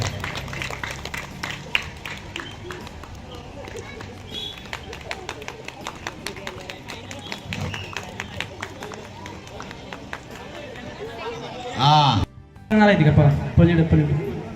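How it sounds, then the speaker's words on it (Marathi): A group claps along during a game at a Ganesh festival celebration in Alleppey, many sharp hand claps in a brisk, uneven rhythm, with voices talking and calling out over them. "टाळ्या वाजवायच्या सर्वांनी।"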